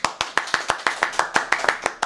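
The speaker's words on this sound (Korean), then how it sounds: "박수!" Studio guests clapping in a quick rhythmic burst, about a dozen sharp hand claps evenly spaced over two seconds, close and fairly loud, with no talking over them.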